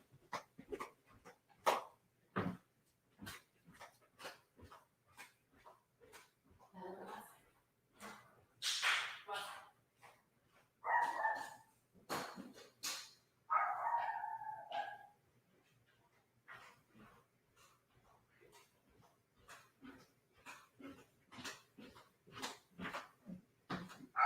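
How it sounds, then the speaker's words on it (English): A pet dog barks in sharp, repeated single yaps at varying loudness across the whole stretch, with brief whines and a short burst of speech mixed in among the barks. "kick that doggy outside so she cannot bark for us"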